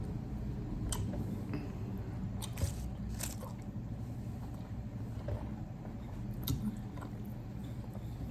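Gum being chewed during a gum-chewing challenge, giving soft wet squishing and biting sounds in a steady rhythm up close, with a few sharper clicks and no speech.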